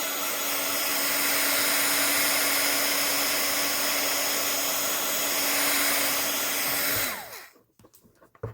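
A hair dryer runs steadily at close range to dry a mixed media frame, a loud even whoosh with a faint tonal hum, then it switches off and spins down, leaving near silence and a few small knocks.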